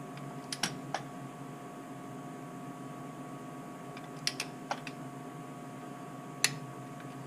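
A torque wrench set to 22 clicks as it tightens a spark plug on an Audi S4 B6/B7. A few sharp, isolated clicks are spread over a steady low hum.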